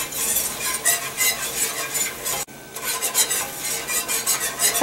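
A flour roux for chicken pot pie cooks and browns in a pan, with a continuous sizzle and rhythmic scraping strokes of a utensil against the pan, briefly cut off midway.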